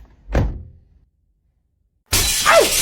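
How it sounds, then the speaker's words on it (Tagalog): A drinking glass drops and shatters, a sharp close crash that tails off into scattering fragments, followed by a sudden loud burst of broad noise. "Ano yan, nabasag? Bitawan ko yung baso"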